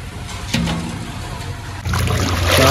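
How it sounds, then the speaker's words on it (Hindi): Yakhni stock water poured from a vessel into a pot of meat, onion and tomato for yakhni pulao, a loud, steady splashing pour with a brief clatter at the start and the flow growing heavier near the end. "ये यखनी तैयार की थी उसका पानी इसमें डाल रहे हैं।"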